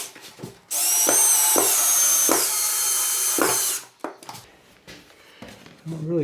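A power drill runs one continuous high whine for about three seconds as it drives screws into a fiberglass window frame, with knocks and handling clatter before and after and brief talk nearby.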